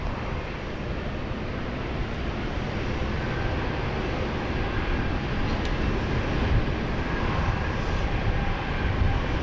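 A Boeing 747 takes off at Sydney Airport in heavy rain, its jet engines giving a steady, broad roar that builds slightly over the span, with rain hiss mixed in and no talk.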